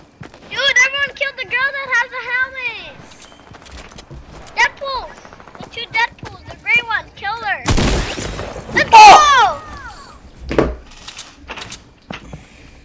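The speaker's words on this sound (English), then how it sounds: "I hear gunshots." Gunfire during a chaotic video game battle, with sharp broadband bursts around the middle of the passage, set among excited speech and game sounds.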